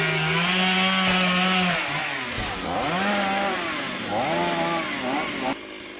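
A chainsaw revs loudly and close while cutting a fallen tree caught on a post, its pitch rising and falling as it bites into the wood. The sound runs continuously under someone talking.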